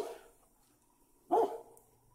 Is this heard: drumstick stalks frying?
no